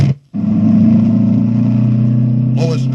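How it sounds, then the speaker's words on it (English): A taxi in an audio drama races at top speed, a steady loud engine drone after a brief gap, with a short voice or squeal near the end. "Lois drives the taxi at top speed."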